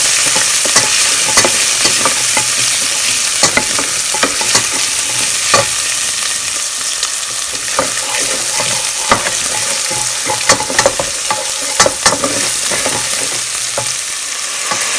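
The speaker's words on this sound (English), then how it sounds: "I'll saute it for about a minute" Ginger paste, garlic paste and green chili sautéing in a hot pan, a steady loud sizzle with repeated scraping stirs of a spatula throughout.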